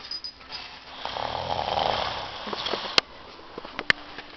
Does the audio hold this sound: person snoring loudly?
yes